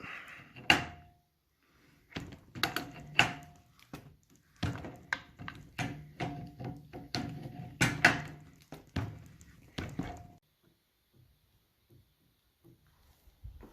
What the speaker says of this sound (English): Gonna crank down on this nut.